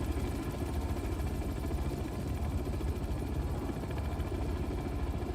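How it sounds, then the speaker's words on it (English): A helicopter in the video game Manhunt 2 hovers overhead, its steady rotor thrum and low engine drone filling the scene at a moderate level with no talk. "The helicopter's looking away"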